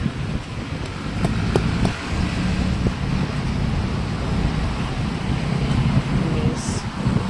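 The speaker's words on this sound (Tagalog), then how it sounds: "Malakas ang hangin, oh." Strong wind during a typhoon signal number 2 roars steadily across the microphone as a continuous broadband rush with low buffeting, while faint voices sit underneath.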